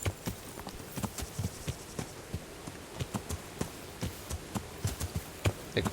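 A mountain horse in Kingdom Come trots over the ground, its hooves clip-clopping in a brisk, regular rhythm of close, crisp beats with no talk.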